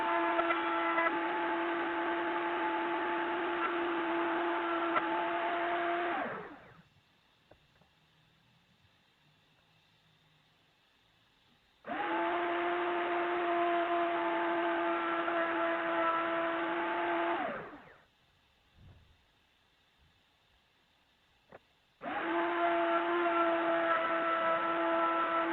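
A power tool cuts a circular center out of a wooden block for a PVC clamp holder, running loud and steady in three long bursts separated by quiet pauses.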